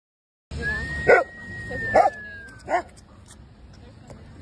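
American Bully XXL dog giving three short, sharp barks with whimpering tones, spaced about a second apart and close by, with a steady high whistle-like tone running underneath.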